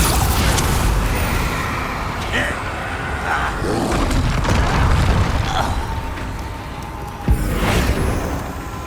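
Explosive Bombarda spell blasts in Hogwarts Legacy combat: dense, continuous booming and crackling battle noise with a sharp burst near the end, while character voices shout spells over it.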